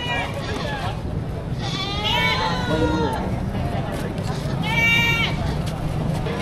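Boer goats bleat several times, loud and near, over a busy murmur of people talking at a crowded livestock auction in Padre Garcia, Batangas, Philippines.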